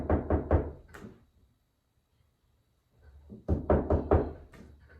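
Knocking on a motel room door with repeated heavy blows, coming in two rapid bursts separated by a quiet pause, close and loud.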